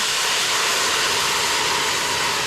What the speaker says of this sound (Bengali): আমার এখানে ডাল পুড়ে যাচ্ছে, জল ঢেলে দিচ্ছি